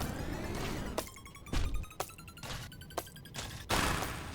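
Cruise missile fire in the game Dome Keeper, a series of sharp explosive bursts in irregular rhythm over a hissing background, each blast followed by a brief ringing tone, fairly loud with no talk.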